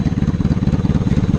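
Motorcycle engine idling while being checked before purchase, a steady close rhythmic low putter with even pulsing beats and slight clatter, alone without talk.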